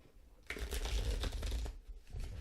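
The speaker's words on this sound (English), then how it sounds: "This deck is feeling a little like it would like to shuffle for a little bit" Rapid riffling and flicking of cards, a steady papery rustle lasting a couple of seconds, close and fairly quiet, with a brief pause before it resumes.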